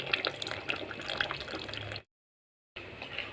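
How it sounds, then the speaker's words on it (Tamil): Tamarind water poured into a simmering brinjal curry, a steady trickling, splashing liquid sound at close range that cuts out briefly into silence and then resumes. "இப்போ நம்ம புளி தண்ணி ஊற்றிக்கலாம்."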